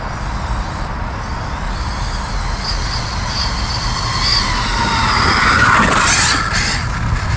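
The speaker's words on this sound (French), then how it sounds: "Alors curieusement je trouve que la transmission fait un peu de bruit." Motor and transmission of an SBR 2.0 RC short course truck whir steadily and loudly, with a rising high-pitched whine and squeal swelling toward the end, heard alone without talk.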